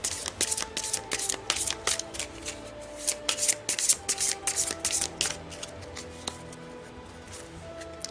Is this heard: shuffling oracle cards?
yes